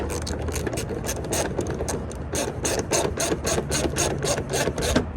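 A ratchet clicks rapidly and steadily while a cap is tightened during a door handle installation on a 2023 Ford Expedition MAX, close and loud for the whole stretch with no voices.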